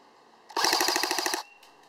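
APS UAR airsoft gun firing full auto, a tight, sharp burst of about a dozen rapid snapping shots lasting under a second, loud and close, with faint clicks afterward.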